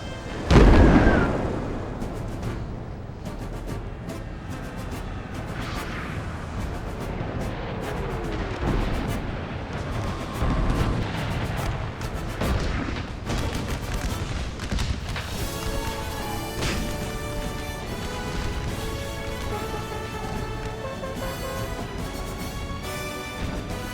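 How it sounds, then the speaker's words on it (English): Mortar fire in a Napoleon Total War American Civil War mod battle: a heavy boom at the start, then dense continuous rumbling barrage of distant artillery and gunfire throughout. "Mortars are still doing work."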